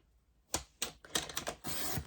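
A paper trimmer slices through a sheet of patterned scrapbooking paper, a few close, quiet clicks and scraping strokes followed by a longer rasping cut, with no voice.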